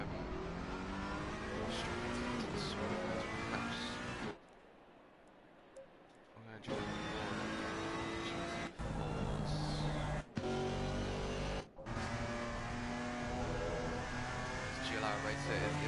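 A Ferrari GT3 race car's 3,996 cc 90-degree V8 roars and revs in a racing video game at the Nürburgring, loud and sustained with a brief lull, under steady commentary from a man.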